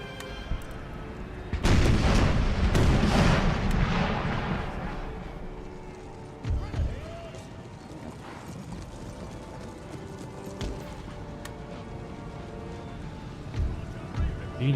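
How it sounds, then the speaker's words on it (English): Artillery volley in Empire: Total War: a burst of loud, overlapping cannon booms that rumble and fade, followed by quieter battlefield noise with scattered thuds, horse hoofbeats and a faint whinny. "Please fire the artillery."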